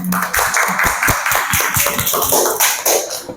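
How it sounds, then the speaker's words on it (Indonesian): A small group applauds after a classroom presentation, with brisk, uneven hand claps close by. The claps keep a fairly even level for a few seconds and trail off softly at the end. "Kita kasih aplaus terlebih dahulu."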